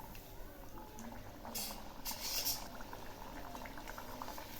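Kochuri fries in bubbling hot oil, a constant soft frothy crackle close by, with a couple of brief sharper spits and clinks midway.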